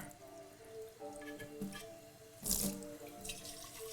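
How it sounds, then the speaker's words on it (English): Water runs from a tap into a sink at low level in a home darkroom setting, a soft continuous trickle with a brief louder splash midway and faint knocks around it. "fill up some water"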